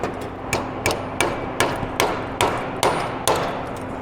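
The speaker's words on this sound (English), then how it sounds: "I'm gonna grab a hammer so I can hammer this down a little bit." Sharp metallic hammer strikes on thin metal for a chainsaw exhaust ring out at a steady pace, about ten blows, each a bright clang over a low background hum.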